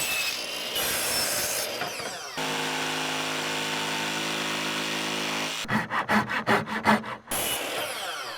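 Wood baseboard trim being cut with a power saw during a flooring install: a long, loud steady whine of the blade through the wood, then a quick run of choppy pulses as it winds down, close and with no speech.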